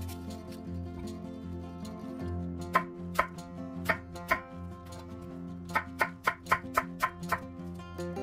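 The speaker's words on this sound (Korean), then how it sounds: "사과는 깨끗이 씻어 씨 부분을 잘라내고 껍질째 얇게 편 썰어주세요." A knife slices an unpeeled apple into thin pieces on a cutting board, making a series of crisp, close chopping taps: a few spaced strokes at first, then a quicker run of evenly timed cuts.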